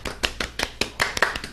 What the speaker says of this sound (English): I'll give it a small Trump round of applause.